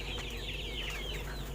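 Chickens in a small home coop pen cluck and chirp in overlapping calls over a steady low background hum, faint and continuous.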